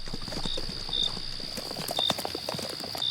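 A mare's hooves clop steadily at a walking pace, close and clear, with a faint high tone running underneath and no voices over the footfalls.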